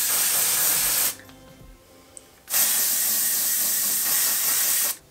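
Two bursts of Moroccan Oil dry shampoo sprayed onto hair, a loud close hiss of about a second, a pause, then a longer steady hiss of about two and a half seconds.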